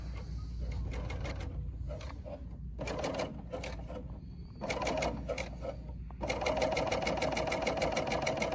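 A Bernina L 850 serger runs steadily through fabric, a close, even mechanical whir with rapid needle stitching that stops and restarts several times, picking up speed near the end.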